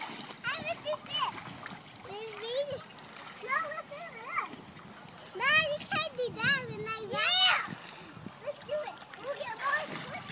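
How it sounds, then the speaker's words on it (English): Children play in water, with intermittent splashes and sloshing under frequent children's voices and an adult talking, the splashing close by and uneven in rhythm. "stop splashing him in the face"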